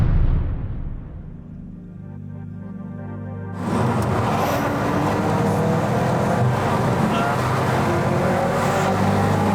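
A BMW M5 CS engine idles low, then the exhaust roars as the car accelerates hard and keeps a loud, rising drone.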